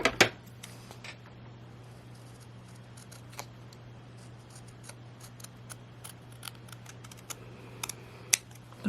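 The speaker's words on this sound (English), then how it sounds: "So we're going to trim that bottom part off just a little bit more." Scissors trimming paper for an oval nativity card, a series of close, crisp snips and small clicks spread irregularly over a quiet background hum, with no one speaking.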